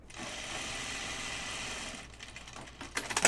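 A sewing machine top stitches a garment yoke, running in a steady continuous whir for about two seconds, then slowing into scattered mechanical clicks and handling noise.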